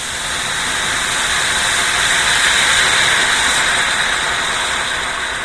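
Steam hissing loudly and continuously as it is released from a cooking pot while making an enchilada meal, a steady broad rush close by with no talk.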